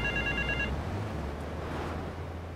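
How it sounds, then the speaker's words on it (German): A telephone rings in the video game GTA 3, a short electronic trill heard once near the start over low ambient hum and traffic-like background. "Ach huch, hier klingelt das Telefon."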